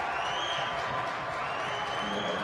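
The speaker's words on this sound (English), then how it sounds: "The crowd loves it." A basketball crowd at a SUNYAC men's championship game cheers and applauds steadily, a dense wash of claps and voices from the arena stands with no break.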